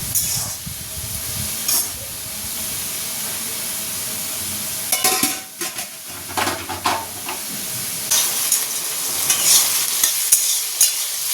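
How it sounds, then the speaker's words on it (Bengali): Prawns sizzle in hot oil in a pan, with a constant frying hiss broken by repeated bursts of scraping and stirring from a spatula, loud and close. "চিংড়িটা ভাজা ভাজা হয়ে গেছে"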